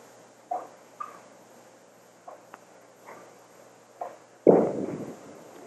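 A bowling ball strikes pins on a cross-lane spare pickup at a 1989 women's televised bowling final, a loud clattering crash near the end after scattered quieter knocks and light crowd noise.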